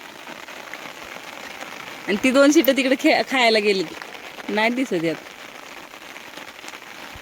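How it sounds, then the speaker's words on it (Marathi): Steady rain falls outdoors on open grazing land, with a constant wash of drops under a voice that speaks in bursts through the middle. "पाऊसच बंद होई नाही"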